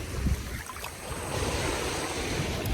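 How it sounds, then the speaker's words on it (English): Ocean waves wash up on a beach in a steady, broadband rush with gusts of wind across the microphone, no voices heard. "tell me why the waves wet my shirt"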